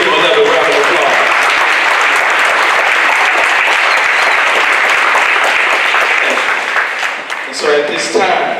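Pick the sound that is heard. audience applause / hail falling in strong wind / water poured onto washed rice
audience applause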